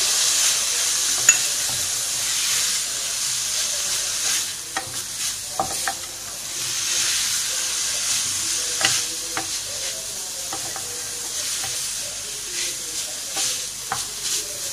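A beef and potato kebab mixture fries and is stirred in a pan with whole coriander seeds, cumin and lemon juice, giving a steady close sizzle broken by repeated scraping stirs.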